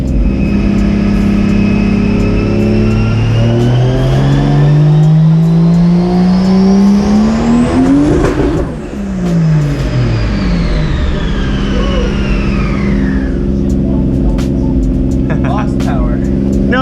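A 2JZ-swapped Honda S2000 engine, tuned and turbocharged, revs hard and loud, pitch climbing steadily to the rev limiter then dropping away before settling back into a lower idle-like drone.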